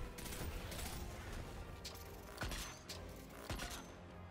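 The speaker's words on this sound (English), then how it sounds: "So now I'm just doing critical headshots with the linear fusion rifle." Linear fusion rifle shots in Destiny 2 during a Scarlet Keep Nightfall mission, three sharp discharges spaced about a second apart over dense, continuous game noise, with someone talking throughout.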